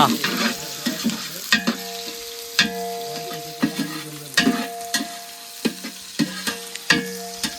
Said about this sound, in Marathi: तर फोडणी सुरू झालेली आहे फोडणी द्यायला कांदा गेलेला आहे